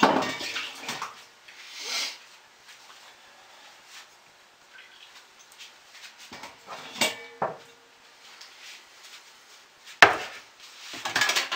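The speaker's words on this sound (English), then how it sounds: "I have to clean the stick blender off." Running water rinses a stick blender clean during soap making, intermittent gushes and splashes separated by quiet gaps, with a few knocks and clatters of equipment close by.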